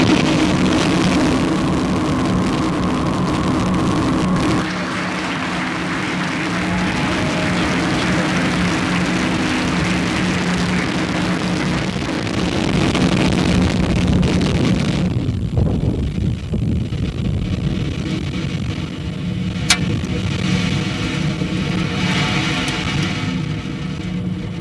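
Starlink rocket launching at liftoff, a continuous loud roaring rumble with heavy wind buffeting that persists throughout, shifting in tone partway through as the roar carries on.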